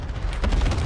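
Cluster strike explosions in Modern Warfare rumble together as a dense, loud, low barrage, with a heavier burst about midway through the short moment.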